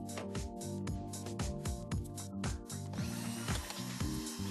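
Screws being backed out of Mercedes-Benz air-nozzle trim parts with a ratcheting tool, a steady run of quick mechanical clicks and whirs, close and fairly loud, with no talking.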